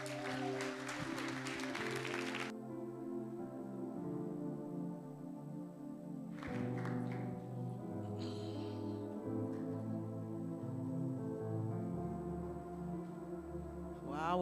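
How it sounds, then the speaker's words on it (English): A church congregation claps during a Sunday service, a dense burst in the first couple of seconds that then fades under steady keyboard and organ music for the rest of the clip. "Give the Lord a clap offering today."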